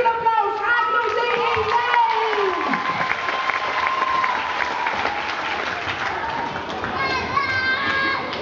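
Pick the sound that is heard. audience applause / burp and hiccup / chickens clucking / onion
audience applause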